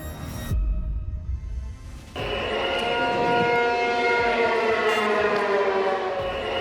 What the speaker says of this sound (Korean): 도심의 공습을 알리는 사이렌이 울리고